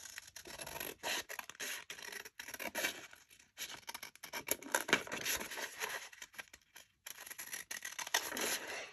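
A paper envelope is cut down with scissors in short, quiet bursts of scratchy snipping and rubbing, each stroke separated by brief pauses, close to the ear and fairly faint.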